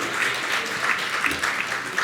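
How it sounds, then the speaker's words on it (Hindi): An audience at a Jain religious gathering at Gunayatan, Shikharji, claps in welcome, a steady, even patter of many hands sustained throughout. "तालियां बजाकर लगातार अभिनंदन कीजिएगा।"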